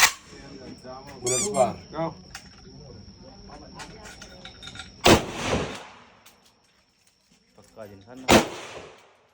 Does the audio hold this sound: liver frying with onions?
no